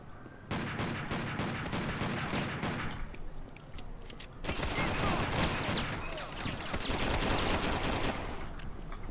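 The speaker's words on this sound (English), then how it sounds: "I'm using like the weapon that I collect from them to kill the others" Sustained volleys of automatic gunfire from weapons picked up off enemies in Driver: Parallel Lines, two long bursts separated by a short pause, steady and moderately loud throughout.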